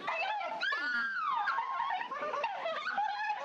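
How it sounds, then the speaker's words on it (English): On a roller coaster, a group of riders shriek and scream with delight, sweeping high-pitched cries that rise and fall, heard faint and somewhat distant over a steady background rush. "This is some people screaming and having fun on a roller coaster."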